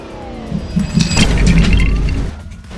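In a car video game, an engine revs up in a short swelling roar with rising pitch that peaks and then fades over a couple of seconds, loud and close, with no voices.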